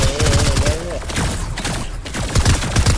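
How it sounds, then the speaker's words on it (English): Rapid pulse rifle bursts ring out in the video game Fortnite, a Creative 2.0 zombie mode, loud and close in repeated rattling volleys under steady talk from players. "Oh, pulse rifle."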